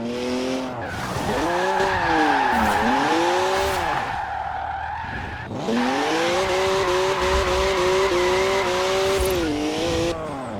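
Rear-wheel-drive BMW 1M drifting in Forza Horizon 4, with its engine wailing in rising and falling sweeps under loud, sustained tire squeal. There is a brief lull midway before the screech and engine surge return, with no talk.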